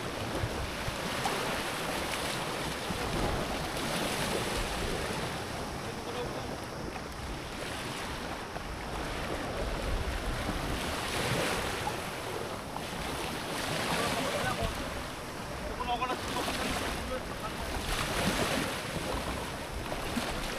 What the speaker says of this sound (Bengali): সমুদ্রের ঢেউগুলো বালির সাথে হালকা করে লুটোপুটি খাচ্ছে